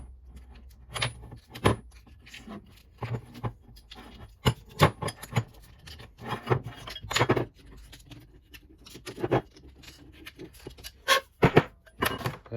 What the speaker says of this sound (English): Let's just deburr that a little bit.